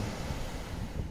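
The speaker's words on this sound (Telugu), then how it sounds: "శబ్దం, అలల శబ్దం వినిపిస్తుంది" Ocean waves wash steadily onto a sandy beach at sunrise, heard as a faint, continuous rushing surf with some wind, with no voices.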